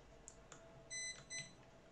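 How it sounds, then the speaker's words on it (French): A battery charger for radio-control batteries beeping to signal charging is done: two short, clear electronic tones in quick succession, faint and in the background of a quiet room. "Les bips que vous entendez derrière, c'est mon chargeur qui me dit qu'il a fini de charger les batteries"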